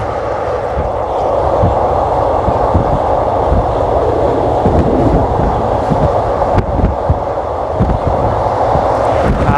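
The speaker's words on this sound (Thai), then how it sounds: "ถ้ามาวิ่งด้านบนเนี่ย ขบวนรถก็จะยิงยาว" A train on an elevated rail line in Bangkok rumbles along steadily with a continuous low roar and faint rhythmic clatter from the wheels, heard close up from on board.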